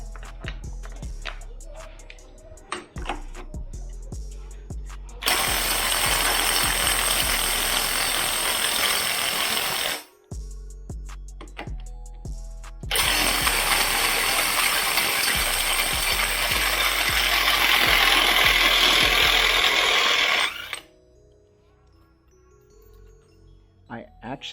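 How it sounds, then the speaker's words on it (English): An impact gun hammers at the 36 mm gland nut on a 1967 VW Type 3 engine in two loud, sustained rattling bursts of several seconds each, separated by brief pauses and mechanical clicks. "I'm just hoping this impact gun is strong enough."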